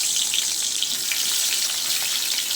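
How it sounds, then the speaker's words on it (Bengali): Pointed gourd (potol) pieces frying in hot oil in a wok, giving a steady, close, continuous bright sizzle with no talk over it. "তেলটা গরম হয়ে গেছে, পটলগুলো দিয়ে দিচ্ছি।"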